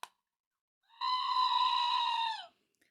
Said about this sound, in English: That's the goat scream button.